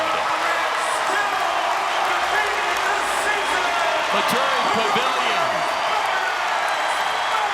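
Crowd cheering and applauding in the Maturi Pavilion after a 184-pound victory at a college wrestling match, a loud steady roar under an announcer's voice.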